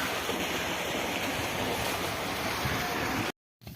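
Water gushing from a running motor pump in a Punjab village in Pakistan: a steady, dense rushing wash of water that cuts off abruptly near the end.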